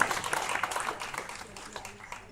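Audience at a lively auction applauds, a brief patter of clapping mixed with crowd voices and a talking auctioneer, fairly close and moderately loud, fading slightly toward the end.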